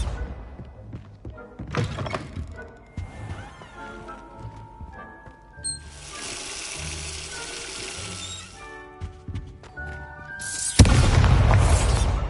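Bombarda spell blasts in Hogwarts Legacy, several sharp thunks and booms with shattering debris scattered across the stretch, ending in a loud, sustained burst of noise.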